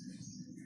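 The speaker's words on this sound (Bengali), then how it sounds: "এগুলো শৌখিন কবুতর, এগুলো হচ্ছে বিটু কবুতর, এটা হচ্ছে লাহোরি" Fancy pigeons, including Bitu and Lahori breeds, kept in a small home loft, give a short low steady coo, close and soft.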